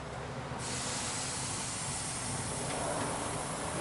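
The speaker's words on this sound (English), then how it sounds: "Let me go ahead and turn on the air compressor." Steady hiss of compressed air from an air compressor hooked to a Ford F250's fuel injector cleaning setup, a continuous broadband rush that swells slightly after the first half second and holds without a break.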